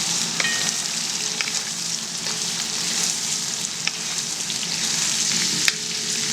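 Carrots fry in oil for plov, giving a constant close sizzle with the occasional scrape and clink of stirring, and no voices.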